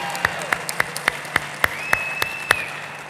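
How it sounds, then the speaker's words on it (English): Studio audience applauding for the incoming chamber board chair, heard as a steady wash of clapping with a run of evenly spaced sharper claps standing out on top through the clip. "Let's give him a big round of applause."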